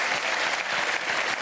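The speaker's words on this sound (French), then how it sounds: "Vous pouvez applaudir Jonathan Lambert" Studio audience applauding on a French TV talk show set, dense continuous clapping filling the whole moment at steady loudness with no voices over it.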